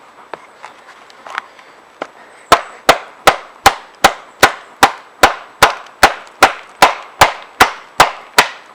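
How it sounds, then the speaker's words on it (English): A knife chops into dry wood with about sixteen sharp, loud, evenly spaced strikes, after a few lighter scattered taps. "Now this is dry wood, it's a little bit harder to cut through."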